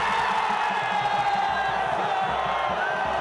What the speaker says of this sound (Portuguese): A torcida ainda comemorava o primeiro gol